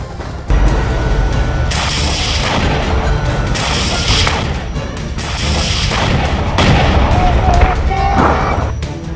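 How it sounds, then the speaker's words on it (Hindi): Grenade launcher fire from Hamas attack footage: a loud burst opens, then sustained heavy booms and blasts roll on continuously, with several sharp reports and some broadband crash over dense low rumble. "हमास आतंकी ग्रेनेड लॉन्चर के साथ इजरायल की सेना के ऊपर हमला करते दिखाई दे रहे हैं"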